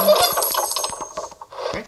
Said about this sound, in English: We're collecting some coins.